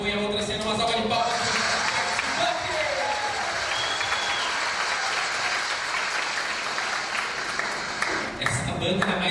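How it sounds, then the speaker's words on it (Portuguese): A large indoor audience of several hundred people breaks into loud, sustained applause, dense clapping holding steady for about nine seconds with a brief dip near the end before swelling again. "Uma salva de palmas."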